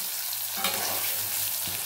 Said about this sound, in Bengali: একটু হলুদ দিয়ে দিলাম, আর খুবই সামান্য নুন দিয়ে আলুটাকে ভেজে নেবো লাল লাল করে